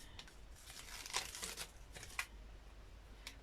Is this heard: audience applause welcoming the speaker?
no